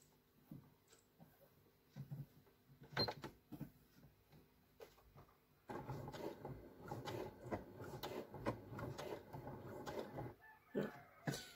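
A sewing machine stitches homemade bias binding, beginning with a backstitch: short, irregular mechanical bursts give way midway to a steady, close, continuous whirring run.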